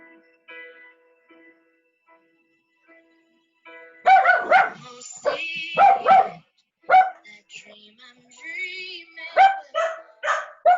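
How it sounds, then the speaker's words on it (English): A dog barks in a burst of loud, close yaps and yips mixed with whimpering, after a quieter few seconds of faint tones. "My dog's barking at your dog."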